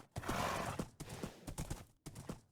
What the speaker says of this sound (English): Let's put the horse back in the new pasture